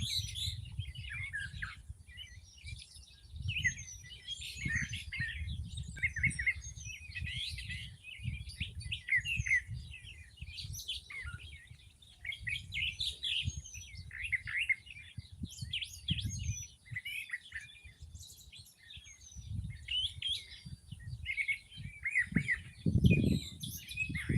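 A busy chorus of wild birds tweets and warbles nonstop, a soft, layered mix of calls from several directions over a low background rumble.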